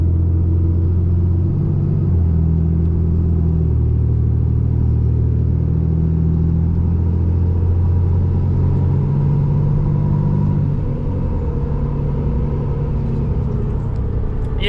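A truck fitted with a Banks Monster Ram turbo accelerating, a loud close in-cab engine rumble whose deep drone climbs and holds through the pull, then eases off slightly near the end.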